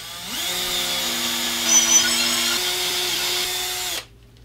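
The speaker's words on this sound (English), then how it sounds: "line my drill up like this, move it over here" A power drill bores a hole into a Telecaster-style guitar body, a steady whirring whine at close range that runs for about four seconds before cutting off abruptly.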